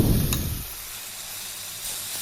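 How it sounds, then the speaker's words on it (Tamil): A yogurt and spice mixture sautéing with onion and tomato in a pan for egg gravy, a steady close sizzle with a brief stirring scrape at the start, no voices. "இப்போது இதையும் நல்லா வதக்கி எடுத்துக்கணும்."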